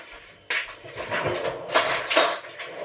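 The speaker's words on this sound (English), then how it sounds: "Now I'm gonna stir it." A spoon stirs warm water, sugar and yeast in a bowl for cinnamon roll dough, giving close clinks and scrapes that start sharply and continue in uneven, moderately loud bursts.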